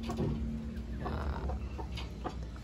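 Roundhead gamecock roosters cluck in short, close bursts against a farmyard background, with no voices.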